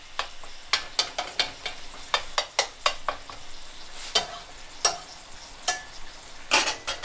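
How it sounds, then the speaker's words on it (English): Egg whites fry in a cast iron pan under a soft sizzle, with repeated sharp scraping and tapping as a utensil breaks them up at an irregular pace, close and fairly loud. "I break up the egg whites a bit so that they cook a bit more evenly"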